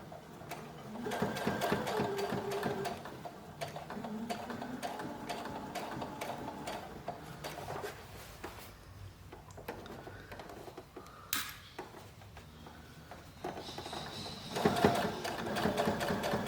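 A sewing machine top-stitches a shirt collar, its quiet, even mechanical chatter running steadily with brief pauses and restarts, heard close with no clear talking.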